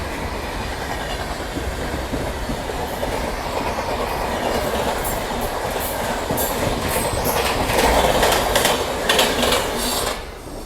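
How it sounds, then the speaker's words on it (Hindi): Indore–Mumbai Central Duronto Express passenger train rushing past a nearby train near Bamnia, a steady loud rolling roar with rhythmic wheel clatter building toward the end, no voices. "ये क्रॉस हुई अपने को ट्रेन नंबर 1228, यानी कि इंदौर मुंबई सेंट्रल दुरंतो एक्सप्रेस"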